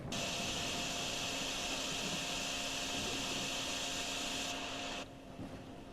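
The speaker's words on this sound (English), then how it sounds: "So I might as well use my vacuum pump here, or my vacuum cleaner." A vacuum pump in the Drain Sim video game sucks up water with a steady, loud broadband whoosh and a high whine that cuts out abruptly near the end.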